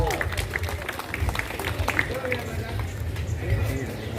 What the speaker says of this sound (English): Can we have a round of applause for the women riders?